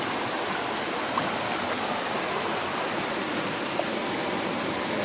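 Steady, loud stream water rushes over a gold trap set in a Green Mountain creek, a constant broadband wash with no talk.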